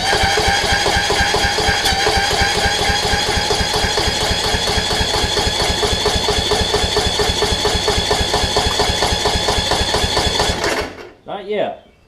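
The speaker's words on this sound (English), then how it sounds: "And now we'll see if we can get it to crank." A Kohler Courage engine on a Toro Z5000 zero-turn mower, suffering back pressure from a tight intake valve, runs in a steady loud rhythmic chug for about eleven seconds, then cuts off abruptly with a brief sputter.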